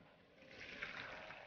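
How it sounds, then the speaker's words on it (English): Water being strained off cooked raw papaya in a kitchen, a soft steady pouring and trickling wash that holds evenly throughout, fairly faint and close. "I will strain the water."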